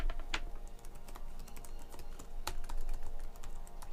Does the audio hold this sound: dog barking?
no